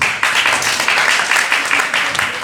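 Comedy club audience applauding, a dense steady wash of clapping from many hands that holds at an even level throughout, with no voices rising above it.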